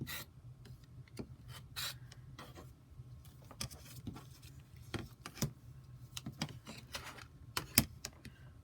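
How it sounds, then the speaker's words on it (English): A rotary cutter with an older blade slices through fabric, heard as faint, scattered rolling scrapes and soft clicks at close range with quiet gaps between them. "I'm using my rotary cutter with an older blade because I just put a new one in my other one."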